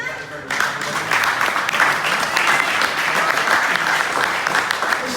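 Sustained applause from an audience at a vehicle show gathering, dense and even clapping that starts abruptly after a brief quiet moment and continues steadily throughout.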